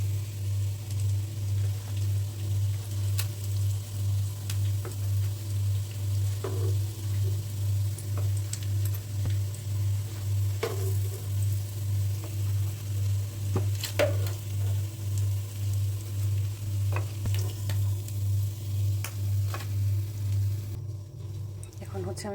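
Egg chops fry in hot oil, a soft continuous sizzle with scattered crackles and ticks, sitting beneath a loud rhythmic low hum that pulses throughout; a voice speaks intermittently over the cooking.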